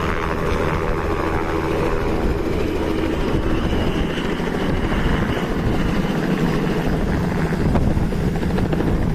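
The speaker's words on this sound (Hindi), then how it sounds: "और ये हेलीकॉप्टर आप देख रहे हैं उड़ान भर चुका है।" A helicopter lifts off carrying a wedding groom's party, its engine and rotor giving a loud, continuous roar and thump with strong wind blast, steady throughout with no voices.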